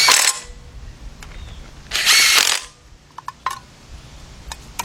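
A power tool with a 3/8 drive and a 10mm deep socket runs in two short bursts on the engine of a 2006 Kia Sportage 2.7, followed by small metallic clicks and taps.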